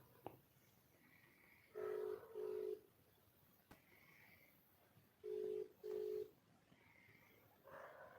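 A phone call rings out unanswered: a repeated double-burst ringback tone sounds twice in the middle distance over faint background hiss, with quiet gaps between the rings.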